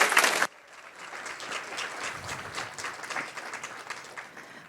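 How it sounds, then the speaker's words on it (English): A brief loud burst opens, then a conference opening-session audience claps continuously in an even, busy patter that carries on to the end. "let's give a round of applause to our sponsors"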